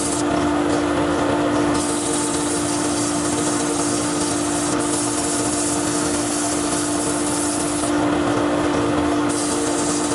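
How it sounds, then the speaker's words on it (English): Sandpaper rubs against a wooden fountain pen blank spinning on a woodturning lathe, a steady continuous hiss over the lathe's constant motor hum, close and alone with no talk. "Keep the sandpaper moving at all times."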